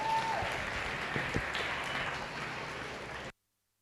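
Audience applauding young cattle exhibitors in a beef show arena, a full sustained round of clapping from a crowd that carries on evenly before cutting off abruptly.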